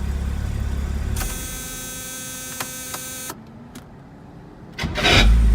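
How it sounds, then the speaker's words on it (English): A 1971 Mercedes-Benz 280SL's starter grinds against the flywheel in a harsh, buzzing whine lasting about two seconds with a few clicks, falls to near quiet, then a loud engine burst comes in at the end. "Kind of sounds like a starter against the flywheel."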